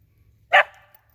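A single sharp, loud bark from a 25-pound Chihuahua Rat Terrier mix, close by against near silence.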